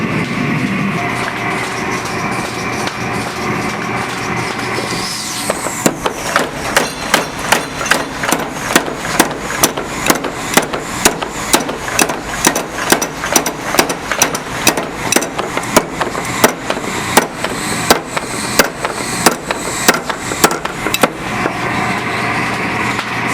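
A blacksmith hammers hot steel while forging a gardening weeder tool, shaping a step and thinning the material; after a few seconds of quiet, a fast, steady run of ringing hammer blows goes on, loud and close.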